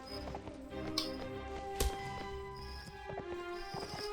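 Horse hooves clatter in a Mount & Blade: With Fire and Sword battle, a steady run of tapping beats under layered game audio and a few sharp impacts.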